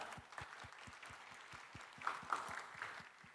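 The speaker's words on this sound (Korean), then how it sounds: "이분들을 위해서 우리 박수 한번 보내실까요?" Audience applause at a Korean government innovation fair presentation, honoring civil servant team members: steady scattered clapping from a crowd that swells slightly toward the end, with no speech over it.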